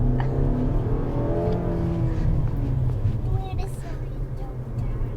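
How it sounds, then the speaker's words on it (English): A 2019 Nissan Altima engine accelerates at full throttle with a steady, loud interior drone under road noise, while people talk throughout. "Full throttle acceleration!"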